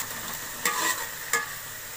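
Tomatoes, green chillies and spring onion greens frying in a pan for an aloo anda dish, a soft steady sizzle with two short bursts of louder stirring scrapes, close by and without talk.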